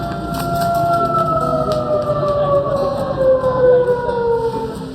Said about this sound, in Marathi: हा आवाज असतो भोंग्याचा, सायरनचा, आणि हा भोंगा आहे अभ्यासाचा भोंगा